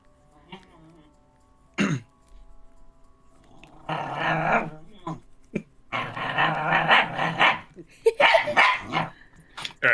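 A small dog barks and growls in rough, throaty bursts that build into a sustained, aggressive string of growls close by, with a person talking briefly between them.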